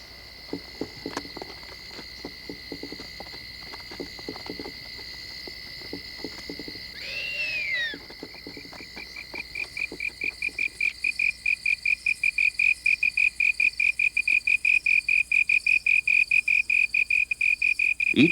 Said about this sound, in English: magnifying the sound made by the slender tree cricket that shapes them